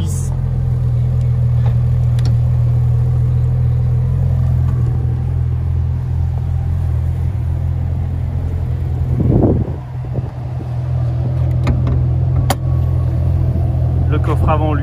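A Porsche 911 GT3 MkI with a 3.6-litre engine drones steadily from inside the car, a low constant rumble with wind noise and a brief bump partway through, with a voice speaking over it.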